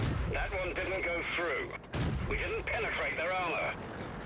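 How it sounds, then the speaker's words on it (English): Rapid tank destroyer cannon shots in World of Tanks boom in a dense string, loud and close, over a steady hum of battle noise with voices talking throughout. "Wow, that was a lot of shots"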